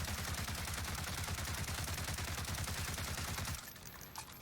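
Automatic rifle fire in the Warzone video game, a rapid unbroken burst of shots at a steady rhythm for several seconds, loud and close, then stopping abruptly into quieter game ambience.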